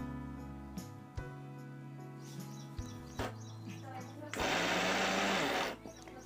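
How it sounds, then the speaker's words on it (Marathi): A mixer grinder whirs loudly for about a second, grinding sweet corn with coriander and cumin into a coarse paste, after a stretch of talking over kitchen background. "मिक्सरच्या भांड्यातून आपण हे छान असं फिरून घेऊ।"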